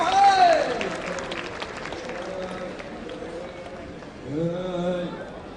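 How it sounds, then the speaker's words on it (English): Applause from a festival audience for a Sangtam tribe cultural troupe at the Hornbill Festival cultural program, a steady crowd clapping with a voice speaking over it and a louder swell near the end. "let's give the Yachan Longchen cultural troupe from Longleng representing the Khon tribe a big round of applause"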